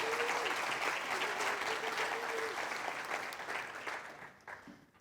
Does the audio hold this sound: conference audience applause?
yes